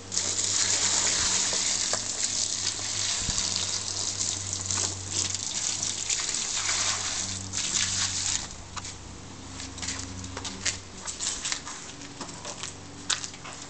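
Water pouring steadily in a continuous gushing splash, close and fairly loud, easing slightly partway through with scattered drips and patter toward the end.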